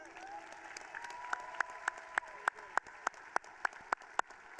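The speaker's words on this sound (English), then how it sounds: "Let's give them a round of applause." A crowd at a 2022 high school graduation ceremony applauds the class valedictorians, sustained clapping with sharp individual claps standing out rhythmically near the microphone, moderately loud in a large hall.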